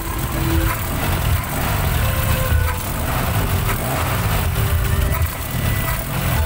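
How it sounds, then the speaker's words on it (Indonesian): An off-road car's engine idles with a deep, truck-like rumble, fitted with a custom open air filter. The low throb runs steady and loud for the whole stretch, close by, with no talking over it. "Kalau untuk suara memang gahar. Suaranya gahar suaranya."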